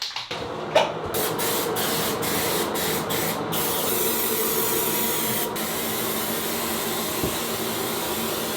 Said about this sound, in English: So KILZ, spray some KILZ.